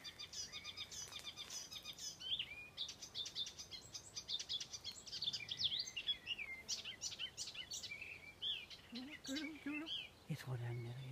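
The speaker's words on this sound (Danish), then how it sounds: "Jeg tror, der er en nattergal." Nightingale singing outdoors, a rich run of high trills, whistles and chirps repeating steadily through the whole stretch, fairly near, with soft background noise and low voices murmuring at times.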